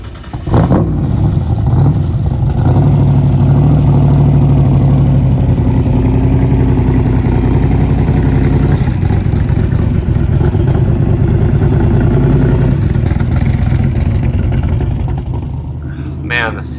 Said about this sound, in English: Man, the sound of those side pipes is so awesome